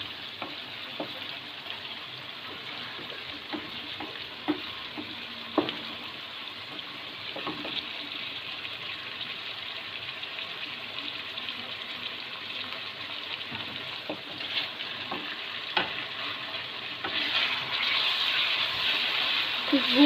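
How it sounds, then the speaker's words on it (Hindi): Chicken fries with green chilies toward golden brown for tikka macaroni, giving a steady close sizzle. Scattered clicks and scrapes of stirring sound over it, and the sizzle swells louder near the end. "इस तरह से अब हम चिकन को गोल्डन ब्राउन होने देंगे।"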